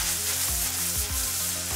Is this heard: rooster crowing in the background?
no